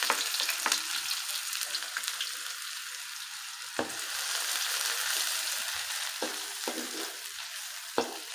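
Garlic and then onion sizzle in hot cooking oil in a pan, a steady close frying hiss broken by occasional clicks and scrapes of stirring, with no talking.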